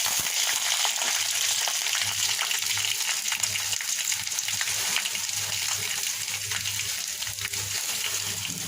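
Chopped garlic and panch phoron spices fry in mustard oil, giving a steady, dense sizzle that runs the whole time without a break, with a faint low hum beneath it and no voices.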